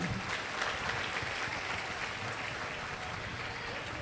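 A congregation at an open-air Mass on a pilgrimage claps to welcome the pilgrims, a broad, sustained wash of applause with a faint voice underneath.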